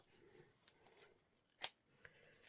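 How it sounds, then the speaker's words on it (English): Scissors snip an old greeting card with a single crisp cut amid quiet handling and faint rustling, close and soft. "And what I do with the scissors."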